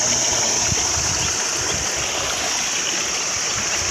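Water rushing steadily in a continuous broadband flow, like a stream pouring into a pond, with no voices.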